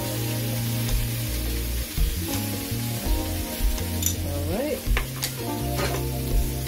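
Swiss chard wilting over medium heat in a pan, sizzling steadily and close up, with several stirring and tossing scrapes breaking through the frying hiss.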